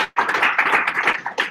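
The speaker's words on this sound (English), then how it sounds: "Please give him a big applause." A small audience at a .NET developers meetup claps for a speaker in a short, close burst of rapid hand claps that starts abruptly and keeps going.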